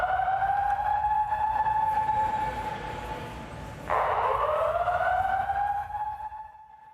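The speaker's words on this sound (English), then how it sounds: "And that is the sound of the alarm inside of the Kentucky Expo Center today." Loud wailing alarm inside the Kentucky Expo Center, a steady rising-and-falling electronic siren tone that jumps in pitch midway and keeps sounding continuously throughout, with no talk over it.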